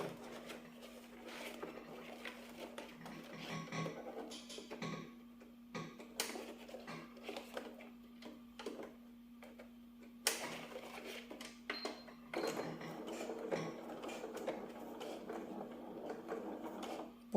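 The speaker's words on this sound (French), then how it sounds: "Et on va coudre au point droit." A domestic sewing machine runs a straight stitch through wax print cotton fabric on a gathered skirt's elastic waistband, a steady close mechanical hum with shifting clatter that pauses briefly and restarts.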